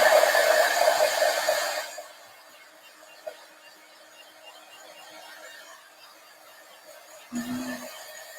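Loud steady roar of a hair dryer blowing on a layer of chalk paste, running for about two seconds then cutting off, leaving quiet room tone with a brief low burst near the end.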